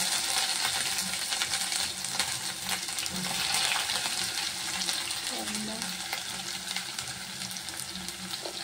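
Whole garam masala, bay leaf and ginger-garlic paste sautéing in oil, a steady close crackle and sizzle with scraping stirring and small metallic clinks throughout, no talk over it.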